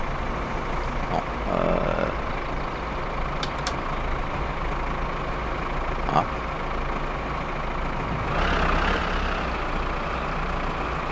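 Truck engine in My Summer Car running steadily while the dump bed is lowered, a continuous rumbling drone with a brief hiss near the end as the bed comes down.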